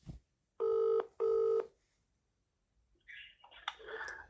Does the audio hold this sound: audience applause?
no